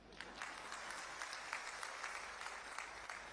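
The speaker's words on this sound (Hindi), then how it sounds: "इसलिए पुरुषों से मेरा निवेदन है कि ताली बजाओ" An audience claps steadily at an outdoor public event at a field in Kunihar, Himachal Pradesh, marking the state's 75th anniversary; the applause is a continuous, moderately faint patter of many hands with no pause.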